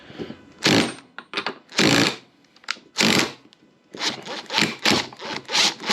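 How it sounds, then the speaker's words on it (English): Impact wrench with a 15/16 socket removing rocker shafts from a swap meet chopper engine, firing in several short, loud, rattling bursts separated by brief pauses, with no talking. "On the rocker shafts, I have a 15/16 socket on an impact."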